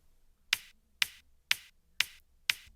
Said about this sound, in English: kick high is a higher click